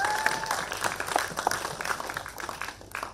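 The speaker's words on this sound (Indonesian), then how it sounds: "mari kita kasih tepuk tangan dong buat 3 narsum kita" Audience applause at a Jakarta food-festival talk welcoming three panel speakers, a steady patter of many hands clapping for about three seconds, moderately distant, with a brief whistle-like tone early on and no speech.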